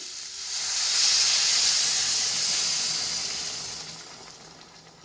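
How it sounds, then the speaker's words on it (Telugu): Steady, loud hissing of water hitting a hot pan of mango and cashew curry, swelling quickly then slowly fading over several seconds, with no talking. "సరిపడిన వాటర్ వేస్తున్నానండి."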